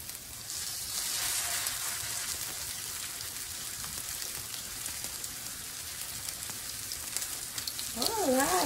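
Steady crackling sizzle of onion rings and bell pepper with ground pork frying in a hot pan, continuous and close, with a brief voice near the end.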